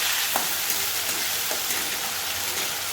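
Spices with ginger, garlic, chili and onion fry in hot oil, producing a dense, continuous hissing sizzle with a few faint taps from stirring.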